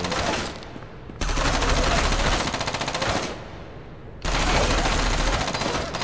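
Machine guns and shotguns fire in Front Mission Evolved, two long, loud, rattling bursts of rapid fire separated by a brief lull, with game voices faintly underneath.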